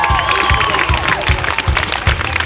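An outdoor country band concert crowd applauds and cheers for the band's electro-acoustic guitarist and lead singer, with rhythmic thumping under the dense clapping and a sustained musical tone fading out early on.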